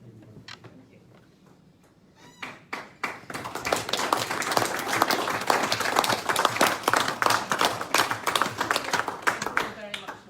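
Applause in a district council chamber: after a brief quiet stretch with a few scattered claps, a room full of hands breaks into sustained, dense clapping that swells and holds, with a voice briefly heard early on.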